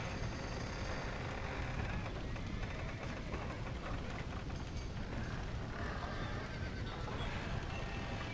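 Horses whinny and neigh in a Red Dead Redemption scene, set in a loud, dense bed of game noise with hoof clip-clop mixed in, steady and continuous throughout with no clear pauses.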